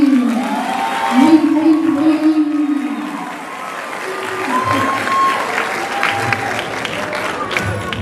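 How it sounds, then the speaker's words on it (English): Graduation ceremony audience at a high school clapping and cheering, a sustained crowd of hands mixed with a voice-like tone early on and scattered louder bursts. "clap it up for me"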